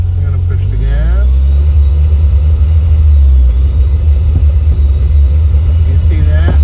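A car engine holds at a 4,000 RPM rev limiter, giving a loud, close, continuous low rumble with slight fluctuation, while a person speaks over it.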